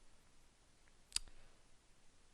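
A single sharp computer mouse click, close and crisp, standing alone in an otherwise quiet room.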